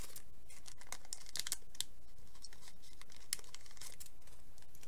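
Packaging on Christmas-gift scrapbooking supplies is cut and pulled open, giving close, irregular snips, crinkles and rustles, with no talking.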